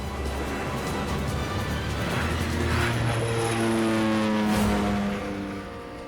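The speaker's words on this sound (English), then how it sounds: "And then the Twin Otter is back in the air." A Twin Otter propeller plane takes off from a beach airstrip, its engines a steady loud drone with a rising pitch that swells and then begins to fade as it climbs away.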